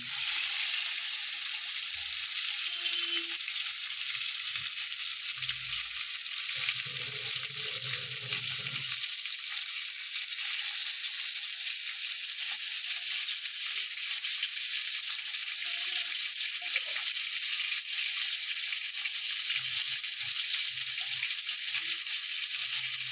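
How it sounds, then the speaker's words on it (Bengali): Pieces of bhola fish fry in a pan of oil, giving a steady, even hiss that holds unbroken for over twenty seconds, with a few faint low knocks and no talking. "আর একটা মাছ দিয়ে দেব ভাজার জন্য।"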